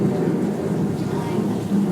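Steady rain with low rumbling thunder in a storm scene at a Disney attraction, a continuous wash of rainfall holding an even level with a deep roll underneath throughout.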